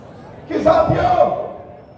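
A crowd shouts and cheers at an outdoor election rally in Julana, Haryana, a loud burst of massed voices swelling for about a second before easing back to a murmur.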